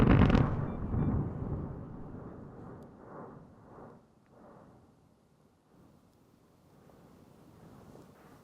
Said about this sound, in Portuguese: As erupções aconteciam cerca de uma vez por hora e cada uma delas literalmente tirava o fôlego